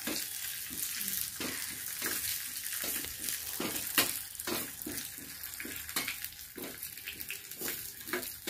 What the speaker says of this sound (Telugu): అది లైట్గా పచ్చి వాసన పోయేదాకా మనం ఫ్రై చేసుకోవాలి